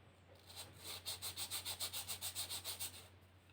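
Broken China ink being rubbed onto paper with light, even strokes, about a dozen soft scrubbing swipes in a steady rhythm, close and quiet over a low background hum.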